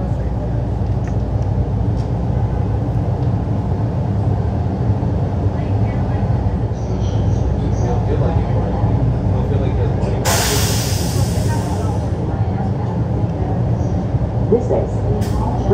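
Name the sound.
Miami Metromover train running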